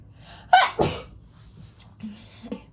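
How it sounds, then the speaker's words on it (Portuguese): A single sharp sneeze close by, preceded by a quick intake of breath, followed by quiet small vocal sounds. "Esses quadros pegam pó, eu espirro."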